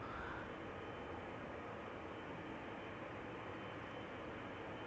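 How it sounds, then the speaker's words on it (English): A KLM Boeing 777-200 departs Amsterdam Schiphol Airport as a faint, distant, steady jet roar that holds evenly throughout with no voices. "Our next airplane, the 777-200, KLM Flight 705 to Rio de Janeiro."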